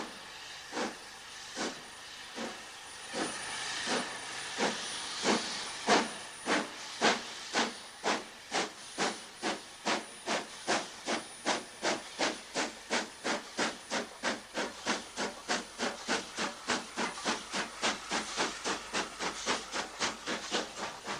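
A steam locomotive working hard up the steep 1 in 49 climb from Grosmont to Goathland, loud rhythmic chuffs with hissing steam, the beats gradually quickening over a long steady pull.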